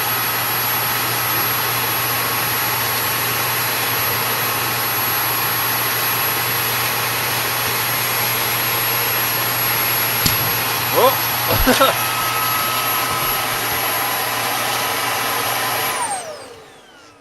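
A Dyson D22 vacuum cleaner runs with strong suction, a steady loud whine and roar held for several seconds, broken by brief rattles of debris being sucked up before the motor cuts off and spins down.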